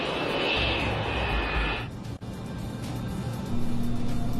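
A Boeing 727 idling at the runway threshold before takeoff, its jet engines giving a steady whining roar that briefly dips then swells into a louder, throbbing hum.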